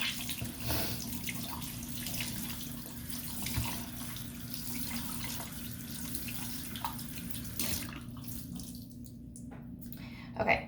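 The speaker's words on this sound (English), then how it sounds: "I'm gonna get this wet again with warm water." Warm water runs steadily from a tap while a washcloth is wetted at a bathroom sink, a continuous hiss that cuts off near the end.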